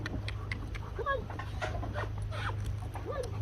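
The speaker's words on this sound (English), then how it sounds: "you can see I'm always encouraging the dog to bring the toy out" A dog pants rapidly during a toy play and training session, quick breathy puffs close by with a few soft whimpers, while a trainer talks encouragingly over it.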